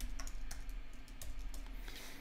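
Quiet, rapid typing on a computer keyboard, a continuous run of soft clicking keystrokes over a low electrical hum.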